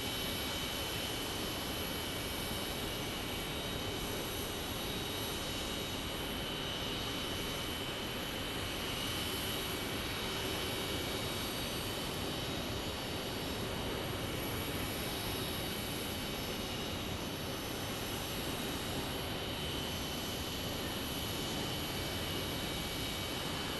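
An Embraer E-175 jet airliner from Seattle arriving at Phoenix Sky Harbor International Airport, heard as a steady, broad jet roar that holds at an even level for over twenty seconds with no talk.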